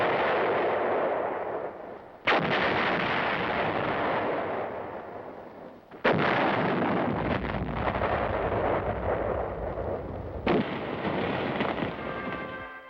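Battle sounds from the liberation of Paris: heavy artillery and gunfire booming in loud sustained bursts, with sharp blasts striking at intervals and long rumbling tails, no voices.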